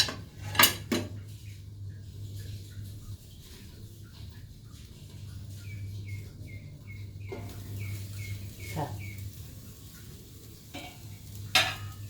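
A metal spatula scrapes and taps against a pan and plate while egg-wrapped fried rice seasoned with soy sauce is scooped out, making a few soft clinks over a low steady hum.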